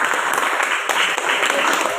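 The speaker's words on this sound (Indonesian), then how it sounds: "tepuk tangan untuk teman-teman" Classroom applause for classmates during a school lesson, a steady wash of many hands clapping together throughout, dense and fairly loud with no pauses.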